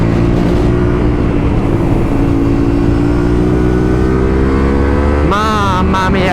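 A Yamaha Tenere 700 motorcycle on a test ride in Naples, its engine droning loud and close with the pitch climbing steadily under acceleration, then a sharp rev at the end, wind rushing throughout.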